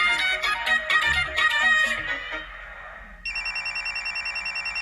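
Phone ringing unanswered after a burst of bright ringtone melody, settling into a steady repeating electronic ring pattern, loud and close with no voices over it.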